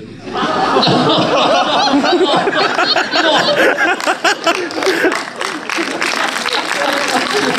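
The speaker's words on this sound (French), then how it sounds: "Tout le monde applaudit là" Audience at a French film premiere screening, with crowd noise and laughter mixed with steady applause that keeps going, loud and dense and close throughout.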